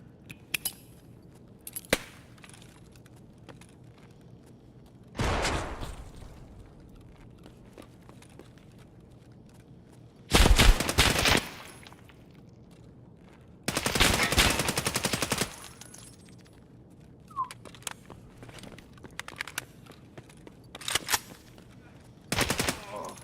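Gunfire in the shooter game Escape From Tarkov comes as several loud bursts of automatic fire, each a dense rattle lasting about a second, separated by quieter stretches with scattered single shots.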